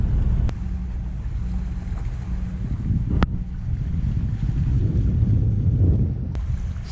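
A Lagoon 50 catamaran motoring out on a single engine produces a steady low rumble, with wind buffeting and water wash around it and a few sharp clicks, and no voices.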